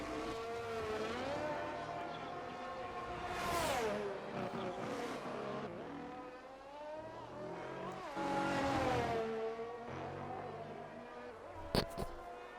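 Open-wheel F1 car engine in the F1 23 racing game on a flying lap around Imola, screaming high and loud with rising and falling pitch through upshifts and braking downshifts, plus a sharp click near the end.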